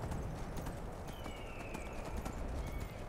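Horse hooves clip-clopping in the game Skyrim Anniversary Edition, a faint, steady stream of hoofbeats over a low background bed.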